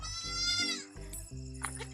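A young goat kid bleats close by in a farm setting: one long wavering cry followed by a couple of shorter, rougher calls.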